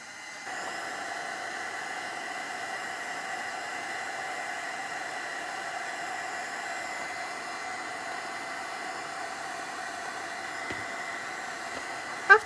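A hair dryer blows steadily and close by, drying paint on an old camera in a steady whoosh with a faint tonal hum, starting half a second in and running without a break.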